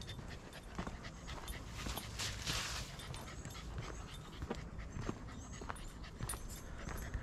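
A dog pants steadily and rapidly close by on a forest walking trail, quick rhythmic breaths over faint outdoor background noise.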